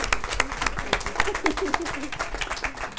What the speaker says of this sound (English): a cheer and a clap if you thought Sarah Lee's was an innovator for this year